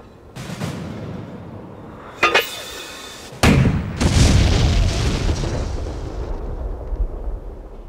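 Artillery shell blasts in a wartime battle against Japanese forces in Burma: several heavy booms, one sharp near detonation followed by a sustained rumbling roar, with no speech.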